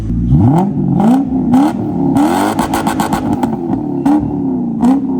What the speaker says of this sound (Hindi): अल्हम्दुलिल्लाह फर्स्ट स्टार्ट। एग्जॉस्ट की बात चेक करो उस्ताद जी,